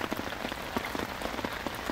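Rain falling at a reservoir during a fishing outing, a dense, steady patter of drops spattering on surfaces nearby with irregular louder taps, no voices.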